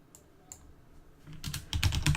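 Close, quiet typing on a computer keyboard: a few scattered clicks at first, then a quick, dense run of keystrokes in the second half, with no talking.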